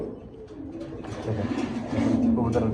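Low, rolling coos from a male pigeon repeat steadily amid a busy background hum with other birds and faint voices nearby.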